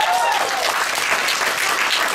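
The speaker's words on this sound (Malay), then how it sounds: "Beri tepukan kepada syarikat itu." Seminar audience breaking into warm applause for a company, a full, even burst of clapping from a crowd, with a short voice trace at the start.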